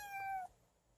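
A single short, clear meow from a hungry cat, close and fairly soft, breaks off abruptly into quiet.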